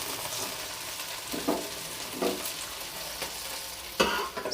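Fried okra (bhindi) is stirred and lifted out of a kadhai of hot oil, giving a soft, steady sizzle broken by a few scraping knocks of the spoon against the pan.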